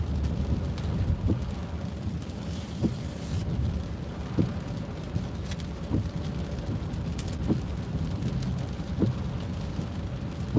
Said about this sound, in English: it's raining pretty well